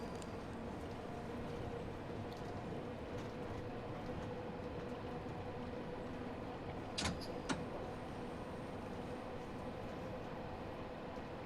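A London Underground Bakerloo Line train in Train Sim World 5 pulls away from Paddington, a steady low rumble of motors and wheels on track with a couple of sharp clunks midway, heard from the cab with no talking.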